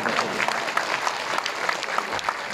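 Applause from a concert audience in Zalasewie, a dense steady clapping that carries on loudly throughout with faint crowd murmur underneath.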